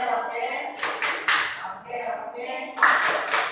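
A classroom of students claps a short rhythmic pattern on a teacher's cue, bursts of hand claps in groups with voices mixed between them.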